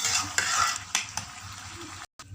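Beef sizzles in a pot while a utensil scrapes and stirs it in several quick strokes, close up, with a brief gap near the end.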